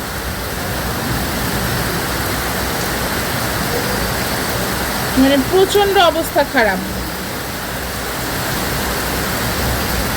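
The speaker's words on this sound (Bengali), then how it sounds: "বাহিরটা পুরো অন্ধকার হয়ে গেছে, আর এত বৃষ্টি।" Heavy storm rain pours steadily in a dense, roaring wash under a darkened sky, with someone speaking briefly over it midway.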